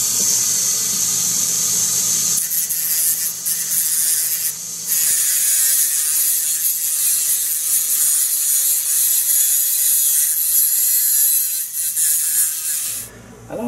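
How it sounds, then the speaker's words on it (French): A new metal bolt being cut down for a potentiometer knob: a loud, steady, high-pitched grinding squeal runs almost continuously, with brief dips near the start and middle, and stops just before the end. "on va procéder à la coupe et ensuite à l'ajustement du nouveau boulon"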